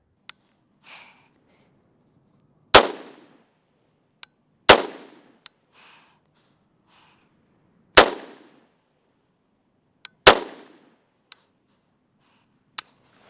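An Aero M5 rifle chambered in 6.5 Creedmoor fires S&B rounds: four loud, sharp reports at uneven intervals, each with a short decaying tail, and faint mechanical clicks in between.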